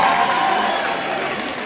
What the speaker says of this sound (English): Big round of applause to everyone.